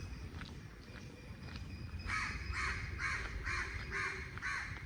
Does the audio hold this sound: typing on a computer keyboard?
no